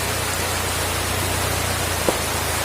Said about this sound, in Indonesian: Ah, ini posisinya lagi hujan ini.